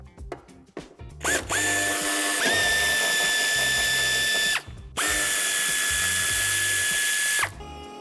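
A power driver removes bumper screws on a 2016 Citroën Jumpy III van, whining loudly in two long steady runs after a brief start, with a clicking ratchet at the edges.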